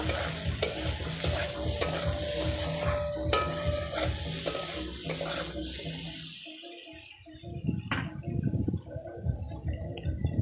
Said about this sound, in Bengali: এবার দেব হলুদ, একটু ভালো করে নাড়া দিয়ে মিশিয়ে নেব।